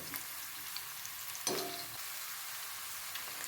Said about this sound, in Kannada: ಮೆಣಸಿಕಾಯಿನ ಫುಲ್ ಫ್ರೈ ಮಾಡಬೇಕು ಇದರಲ್ಲಿ ಚೆನ್ನಾಗಿ ಫ್ರೈ ಮಾಡ್ಕೊಳ್ಳಿ